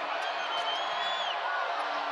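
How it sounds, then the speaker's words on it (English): Crowd at a BYU versus Gonzaga women's college basketball game cheering steadily with whoops and shouts, sustained and fairly loud, with a commentator talking over it. "a lot of energy behind them with this electric crowd continuing to carry that momentum"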